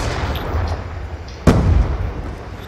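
A single sharp KAP-40 gunshot crack rings out in Black Ops 2 multiplayer, sudden and loud over a steady low rumble of battlefield ambience, then decays.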